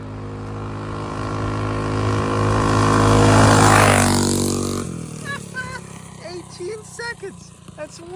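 A 16 hp go-kart with a Stage 1 engine speeding past, its engine whine rising as it approaches, peaking loudly, then dropping in pitch and fading away while people talk over it.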